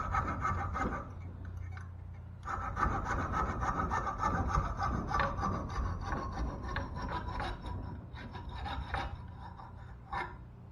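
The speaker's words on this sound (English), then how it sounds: "I use a coping saw to cut out the profile" A hand coping saw cuts the profile of a wooden crankbait lure held in a vise, steady rasping back-and-forth strokes, close and alone, with a short pause partway through.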